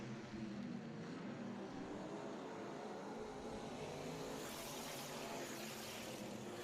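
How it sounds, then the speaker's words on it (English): Vintage race cars circle a track in a continuous, loud engine roar that holds steady throughout, with a broad wash of mechanical noise and no talk. "Austin Moy looking good in that vintage car."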